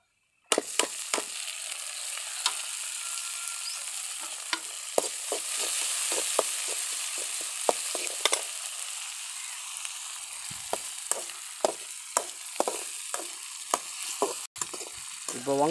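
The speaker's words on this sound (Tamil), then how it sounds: "இப்போ வெங்காயம் தக்காளி நல்லா வதங்கின அப்புறம் முள்ளங்கி போட்டுக்கலாம்." Onion and tomato sautéing in a pan for a radish and egg dish, giving a continuous moderate sizzle broken by frequent scraping clicks from a spoon stirring against the pan, close by with no talking.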